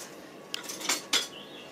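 Two eggs are whisked in a dish, giving a few quick, light clinks and scrapes of a utensil against the bowl, close and fairly faint in a quiet kitchen.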